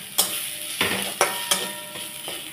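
Coconut being stirred into spice paste frying in a pan for narkel cholar dal, with a steady sizzle broken by about five scraping stirs at an irregular pace, close and moderately loud.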